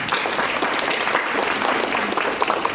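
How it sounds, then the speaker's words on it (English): An audience at a city State of the City event gives a dense, continuous round of applause for a waste company representative, a steady wash of many hands clapping together. "we'll give him an applause"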